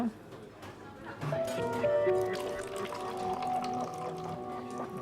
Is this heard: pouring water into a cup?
yes